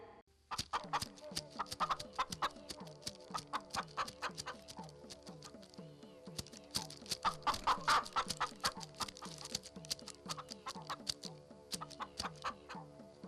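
A hen clucks in a steady, rapid series of short calls, close and continuous throughout, with no talking.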